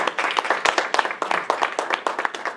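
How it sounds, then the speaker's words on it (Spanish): A church congregation applauding during a worship service, sharp dense hand claps in an uneven rhythm, close and fairly loud, with no talk over them. "Denle ese aplauso al Señor"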